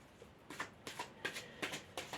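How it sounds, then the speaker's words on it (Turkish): Tarot cards are shuffled and drawn, giving a quick series of about five soft riffling swishes in a steady rhythm, close and quiet. "Şuraya bir kart çekmek istiyorum arkadaşlar."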